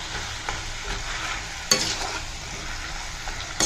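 Spiced paste with salt, chilli and turmeric cooking in a pan, a steady close sizzle with a sharp clack of stirring partway through.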